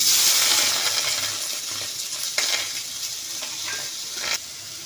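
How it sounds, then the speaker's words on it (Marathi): Tomatoes roasting in a hot pan for a spicy Kolhapuri chicken meal, giving a steady broadband sizzle with a few sharp clinks, loud and close, with no talking. "आता आपण टोमॅटो भाजून घेणार आहे"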